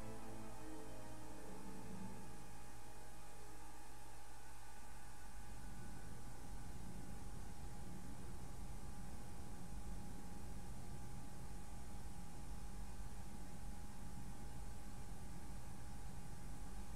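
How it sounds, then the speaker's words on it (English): Radiation static in the video game Mass Effect 2: a constant, even hiss of white noise with a low hum, steady and unchanging for the whole stretch, no voices. "It's radiation, just white noise."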